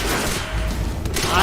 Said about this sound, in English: I don't even know where I'm getting shot at from.